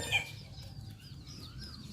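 Several chickens cluck and chatter close by in a Thai backyard coop of young hens and black chicks, with soft overlapping calls running continuously over a low ambient rumble and no talking.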